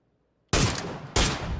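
Gunfire in the game PUBG: two loud, abrupt bursts after a moment of silence, each a harsh wideband blast that rings on and overlaps the next, close and forceful, with no talking.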